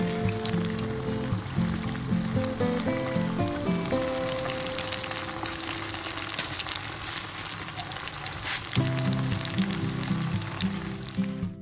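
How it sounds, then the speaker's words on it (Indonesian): Constant crackling sizzle of food frying in oil, steady throughout, with a melodic tune playing over it. "Kita panaskan minyak dan goreng sampelnya sampai matang."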